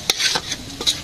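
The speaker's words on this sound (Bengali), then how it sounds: "মশলাটা কষিয়ে নেই" Spice paste being stir-fried in a pan in a village kitchen, with a spatula scraping and stirring in quick strokes over a soft, close sizzle.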